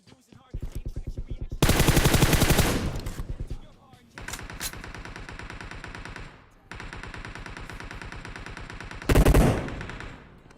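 Automatic rifle fire in a PUBG Mobile match rattles out in loud rapid bursts, several sustained sprays separated by short pauses, close and dominant.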